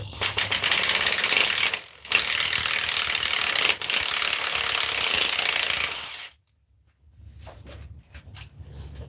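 A ratchet tightens a harmonic balancer pulley tool on the 3.7 engine of a 2018 Ford Explorer, giving loud, rapid continuous clicking in long strokes broken by brief pauses, then a quieter stretch.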